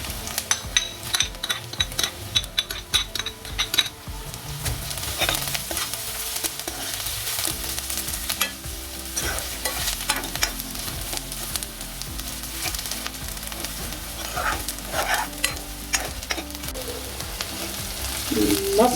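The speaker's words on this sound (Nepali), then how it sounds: "लसुन अदुवा प्याज भुट्यौँ हामीले" Onion, garlic and ginger frying in a pan for a Nepali brinjal bharta, a steady close sizzle broken by repeated scraping and stirring of a utensil against the pan.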